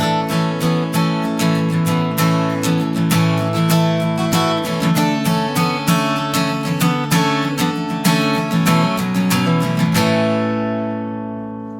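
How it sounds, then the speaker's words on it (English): Acoustic guitar plays the intro riff of a worship song with a capo and G-shaped chords, bright strummed and picked notes in a steady rhythm, close and alone, ringing out at the end. "I'm also going to show you how to play a cool intro to the song that sounds like this."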